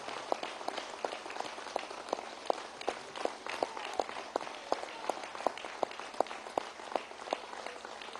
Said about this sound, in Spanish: un gran aplauso a nuestra hermana Cuba